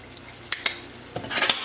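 A spoon stirs lasagna sauce with basil seasoning paste in a pan, giving a few short scraping clacks against the pan over a faint low sizzle, with no talking.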